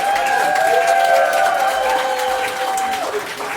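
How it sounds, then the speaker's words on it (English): Audience applause at a spoken-word poetry session: steady, dense clapping from a crowd that holds evenly for a few seconds, with a few scattered voices rising over it. "Round of applause for you."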